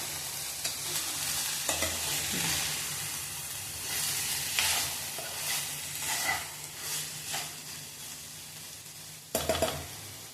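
Soya chunks crackle and sizzle as they are stir-fried in a pan, with steady frying and occasional scrapes and knocks of the spatula throughout.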